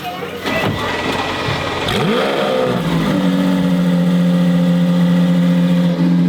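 A Lamborghini hypercar engine fires up with a sharp rising rev, then settles into a loud, steady drone close by while people talk over it.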